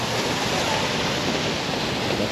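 Water pouring from the Merlion lion statue fountain in Singapore, a steady dense roar of splashing spray, loud and unbroken with no voices.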